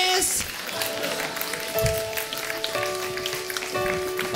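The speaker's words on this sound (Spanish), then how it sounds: "Un aplauso para mis compañeros." Audience clapping at a comedy roast show, a steady patter of applause beneath tonal music and a voice talking over it from start to finish.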